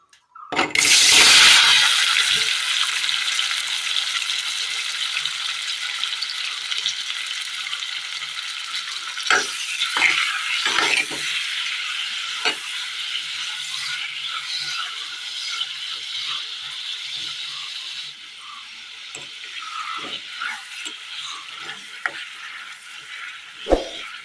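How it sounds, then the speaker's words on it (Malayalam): Mango pieces, only just ripening, frying in hot oil make a steady, loud broadband sizzle throughout, with occasional scraping stirs and clinks of a utensil in the pan. "ചൂടായി വന്ന എണ്ണയിലേക്ക് മാങ്ങ കൊടുക്കാം"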